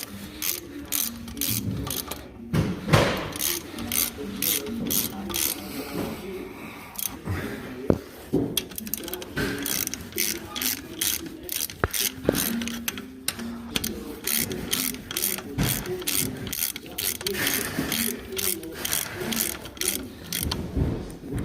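Ratchet tightening bolts on a Dodge 3500 truck: rapid repeated clicking in bursts, sustained over many strokes, with someone talking at times.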